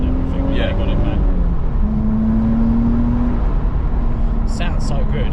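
A Nissan Skyline 350GT engine revs freely and smoothly, its tone rising and falling in a steady drone that continues throughout.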